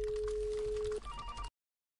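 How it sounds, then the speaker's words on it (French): A telephone call to a mobile phone rings out as a steady ringback tone, one long even tone followed by a brief higher tone pattern before cutting off abruptly. "Je vais essayer de l'appeler sur son portable personnel."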